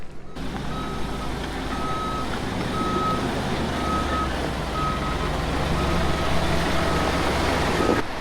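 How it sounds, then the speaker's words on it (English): A slinger truck reverses at a construction site where a dozer works, its backup beeper pulsing steadily about once a second over a loud continuous diesel engine rumble. "Got the slinger truck here, putting material inside for the dozer."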